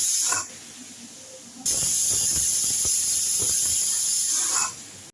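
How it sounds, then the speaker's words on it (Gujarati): A pressure cooker on the stove, cooking rice in milk for sweet kheer, releases a loud, steady steam hiss for about three seconds, with a short hissy burst just before it and faint kitchen clatter underneath. "હવે આપણે કુકરનું ઢાંકણું બંધ કરી 2 થી 3 સીટી થાય ત્યાં સુધી ચડવા"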